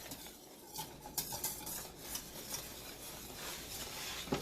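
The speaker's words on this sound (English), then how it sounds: "You want to stir that in." A spoon scrapes and stirs through thick sausage and mushroom pot pie filling in a hot pan, a steady run of close scraping and soft clinks with no talking.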